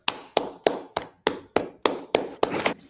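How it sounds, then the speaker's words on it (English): A class in a Bible study session claps, heard as about nine separate, evenly spaced sharp claps, moderately close and fairly quiet, with no talking over them. "Y'all clap it up."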